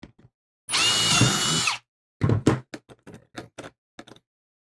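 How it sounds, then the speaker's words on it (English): Power drill boring into a metal ammo can for a portable antenna go-kit, one long loud whining burst followed by a series of short stuttering drill bursts and knocks, close up. "Hard to drill and hold this at the same time."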